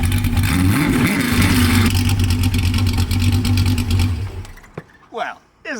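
A 1967 Ford Mustang engine runs loud and close with a rough mid-pitched rumble and revs for about four seconds, then cuts off, followed by brief talk.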